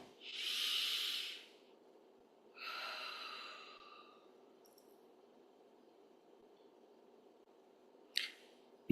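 A person breathing deeply: a long, strong inhale, then a slower exhale, followed by a brief sharp breath near the end, close and alone against a quiet background.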